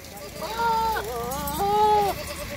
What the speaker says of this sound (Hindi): ये टेडा बकरा है, खस्सी है